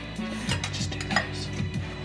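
Big frozen chicken wings being stirred up in sauce, a spoon clinking and scraping against the pot or bowl in a quick, uneven series of knocks with a soft wet shuffle underneath.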